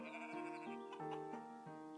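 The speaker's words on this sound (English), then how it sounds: "Are these sheep happy now they've got trees nearby?" Sheep in the nature-building video game Equilinox bleat in a run of wavering, tonal calls that rise and fall in pitch, steady and fairly close, with no talking over them.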